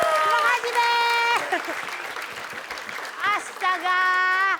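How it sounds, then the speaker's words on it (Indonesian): An audience applauds during a comedy variety show, the clapping rising in bursts between stretches of loud, drawn-out speech and sung-out syllables, with a crowd murmuring underneath. "tepuk tangan buat Pak Jojon, Bang Wali, dan Bang Bolon."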